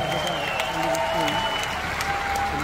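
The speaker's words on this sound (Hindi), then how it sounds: "एक बार तालियां जोरदार।" A live comedy show audience in London claps loudly and continuously, dense sustained applause filling the room from start to finish.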